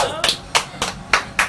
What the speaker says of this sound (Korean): 박수 한 번씩 부탁드릴게요.